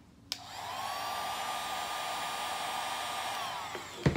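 A heat blower warming a sticky label on a sharp-edged wrapped item: it clicks on and runs as a close, steady whirring rush of air for several seconds, then switches off with a thump, with no talk.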